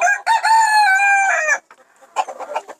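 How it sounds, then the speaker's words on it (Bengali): A Polish cap chicken crows once, loud and close, in a drawn-out call. After a short pause it follows with a few clucks. "এটা হচ্ছে বাপ পলিশ ক্যাপ।"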